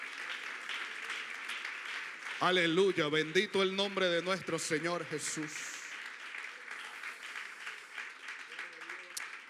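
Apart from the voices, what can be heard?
congregation applauding in church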